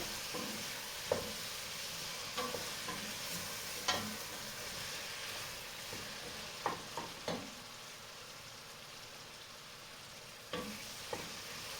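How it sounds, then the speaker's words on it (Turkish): Onions being sautéed in hot oil, a low steady sizzle throughout with occasional sharp clicks and scrapes of stirring, fairly quiet with no talk. "soğanını kavurdum"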